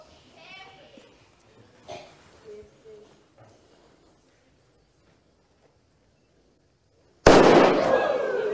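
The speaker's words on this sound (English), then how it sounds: "When the fuse burns down and the cannon fires, I want you to look carefully what happens to the cannon." A small cannon fires once after its fuse burns down, a sudden loud blast near the end following quiet talk and a few soft sounds.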